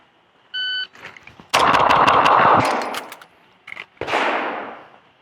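Five rapid pistol shots from a cold start drill on a training range, fired in a quick burst after a timer beep, followed by further sharp reports and a long fading echo; no talking.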